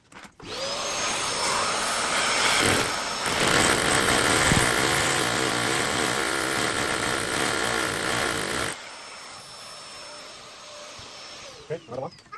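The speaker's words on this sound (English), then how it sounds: "So now, if you can just put the vacuum on, and we'll continue." A vacuum unit roars loud and steady for about eight seconds during a split-system air conditioner installation, with a high whine over it. It then drops to a quieter hum before a couple of short knocks at the end.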